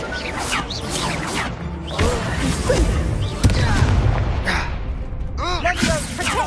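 Confringo fire spell blasts in Hogwarts Legacy thump out as loud booms and crashes amid a dense wash of battle noise, with voices calling over the chaos.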